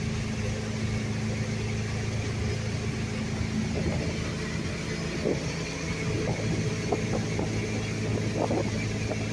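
A 25-foot boat's motor drones steadily while cruising on open water, a constant low engine hum with faint water rush and a few brief lighter splashes or knocks over it.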